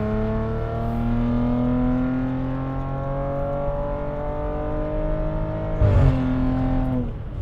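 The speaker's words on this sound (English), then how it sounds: "I know this sounds as good as a lot of those other V6 Audis out there." A V6 Audi family SUV fitted with a swapped Lamborghini Urus exhaust hums with a steady, smooth engine drone whose pitch climbs gently as it revs, then a brief louder burst near the end before settling back; no talking.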